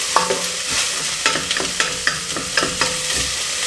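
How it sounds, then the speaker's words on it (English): Mussels tossed into a hot pan with celery and spring onion, giving a steady loud sizzle broken by repeated scraping and clinking of a spoon stirring the shells, close and continuous. "And then you add the mussels."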